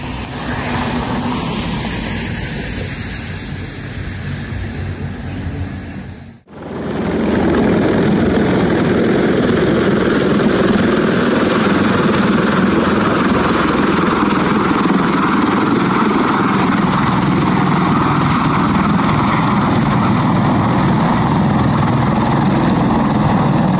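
Helicopter flying near clouds, a loud continuous rotor and engine drone with a brief cut a few seconds in, then a steady, full roar that continues without talking.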